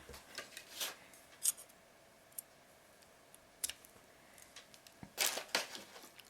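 Scissors snipping beading thread after it is pulled through beads, a few sharp, faint clicks and snips scattered across an otherwise quiet stretch.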